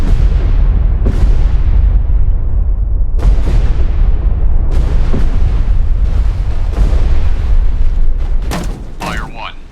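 Depth charges from a WWII destroyer in the naval game Destroyer: The U-Boat Hunter burst in a series of heavy, loud booms that rumble continuously under a sustained low roar, with a crew voice briefly audible near the end.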